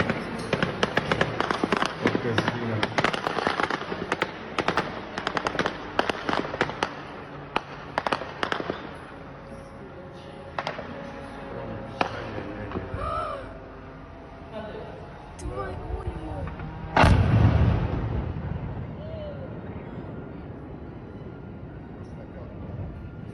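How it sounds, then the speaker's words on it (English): A drone strike explodes at an oil refinery at night: a burst of sharp crackling bangs leads to a quieter stretch, then one heavy, booming blast that rumbles away, with a voice talking over it. "The footage shows the moment of impact, a massive explosion lighting up the night sky"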